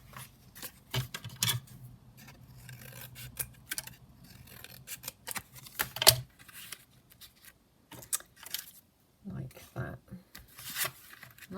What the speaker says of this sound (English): and then cut it down